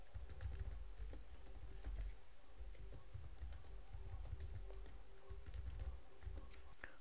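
Quiet, steady typing on a computer keyboard while entering a password at a server login, a soft run of small clicks and taps with no voices.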